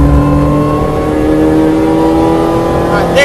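A Mini Challenge Clubsport race car accelerates at full power on track, its engine note climbing steadily and loud from inside the cockpit, with a voice briefly speaking over it.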